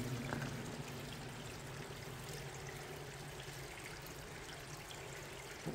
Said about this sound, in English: Just look where all the water's running down